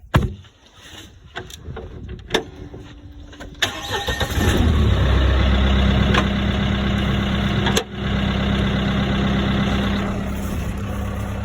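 A Mahindra 2638 tractor with a Shaver post driver hooked up cranks with a few clicks and rattles, then its engine catches and settles into a loud, steady diesel idle close by.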